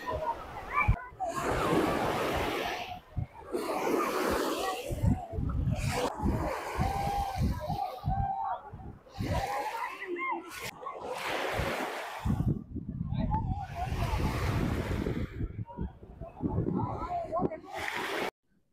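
Gentle sea waves wash in at Rameshwaram beach, where the calm water has little surf and people are bathing; the broad rushing surf swells and fades in repeated waves while people talk nearby.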